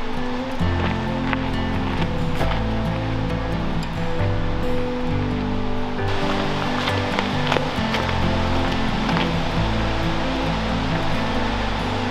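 Toms Creek Falls in a Blue Ridge Mountains forest gives a steady, broad rushing roar of falling water and stream flow, continuous and fairly loud, with a few faint clicks and no speech.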